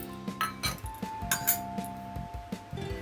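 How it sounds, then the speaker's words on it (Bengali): Boiled chickpeas tipped into a bowl in a home kitchen while making chana masala, heard as a run of light clinks and taps of dish and utensil, close and fairly quiet, with no talking. "আমি সেদ্ধ করা ছোলাটা একটা বাউলের মধ্যে ঢেলে দিলাম"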